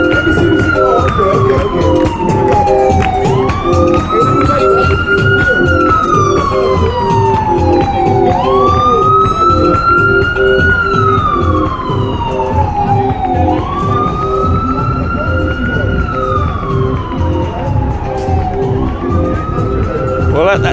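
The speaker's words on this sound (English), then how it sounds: "Can you hear the sirens going? It's getting deafening." A loud wailing ambulance siren sweeping up and down in a repeating cycle, close by, over rumbling street traffic in Times Square.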